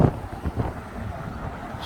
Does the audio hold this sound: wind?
yes